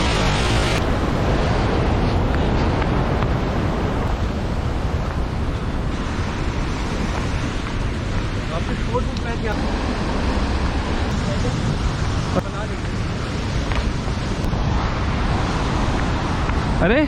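Roaring rush of water at Shabari waterfall, a continuous broadband wash heard steadily throughout, with faint voices mixed in.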